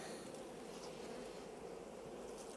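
Honey bees hum inside a hive box, a continuous low, even drone of many wings filling the short stretch at close range, with no voices.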